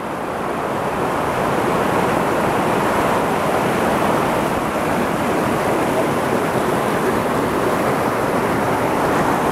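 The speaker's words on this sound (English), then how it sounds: "Anyway, waterfall." A waterfall on the Kearsarge Pass mountain hike gives off a constant, loud rushing roar, steady from start to finish with no one talking.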